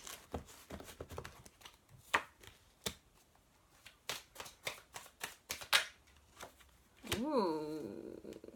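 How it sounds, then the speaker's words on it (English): Tarot cards are shuffled in a quick series of crisp, close riffling bursts with brief pauses between them, and a voice breaks in near the end. "Just want to do another big girl shuffle"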